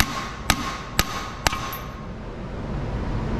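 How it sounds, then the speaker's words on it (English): A hammer knocks a shuttle part out of a Case 580 Super E backhoe, striking three sharp metallic blows about half a second apart over a steady background noise. "just take the hammer like this and hit on the top"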